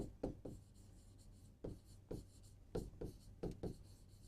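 Writing on a board during a lecture, a series of soft separate strokes and taps in bursts, fairly quiet and close, with no talking.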